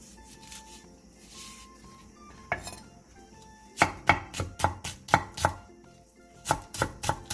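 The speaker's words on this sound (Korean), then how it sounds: "대파 2분의 1개에 길게 십자 모양으로 칼집을 낸 뒤 쫑쫑 썰어주세요." A knife finely chopping green onion on a cutting board: a few isolated taps, then a rapid run of sharp, evenly spaced chops, with a faint tonal hum underneath.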